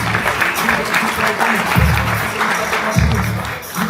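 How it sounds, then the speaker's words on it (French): An audience applauds at a WNBF France bodybuilding competition, with dense, steady clapping and a few swells of cheering. A voice speaks over it at times. "applaudissements, et on les applaudit"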